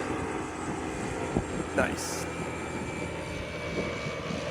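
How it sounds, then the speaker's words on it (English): A propeller airplane flying in overhead near a kayak on the coast of Vancouver Island, a faint steady engine drone beneath close outdoor sounds and a short remark from a man. "You got a plane coming in."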